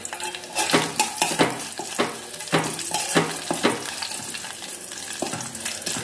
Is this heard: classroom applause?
no